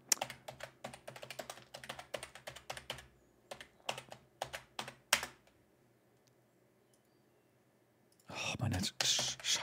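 Typing on a computer keyboard, irregular bursts of quick close key clicks with short pauses, then a pause before a person starts talking at the end.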